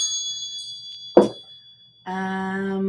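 Wind chimes ring out: one bright metallic strike is followed, after a short pause, by a sustained, clear ringing tone that carries alone and fairly close.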